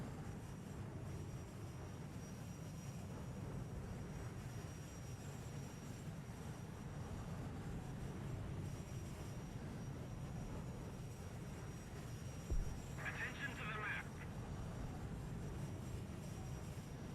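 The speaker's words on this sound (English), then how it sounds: "that was a heli" A helicopter in a multiplayer vehicle combat game, a steady low engine drone running throughout at a moderate distance, with a brief sharp impact and a short burst of higher noise near the end.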